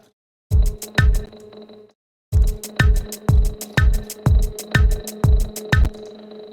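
A simple shaker percussion loop programmed in FL Studio, crisp evenly spaced hits with a punchy low thump under each, repeating in a steady groove after a short gap.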